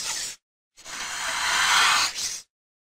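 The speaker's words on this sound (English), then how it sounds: "What sound does a snake make?" A snake hisses in two dry, airy bursts: a short puff, then a longer, stronger hiss that swells and tapers off, close and clear with no voices.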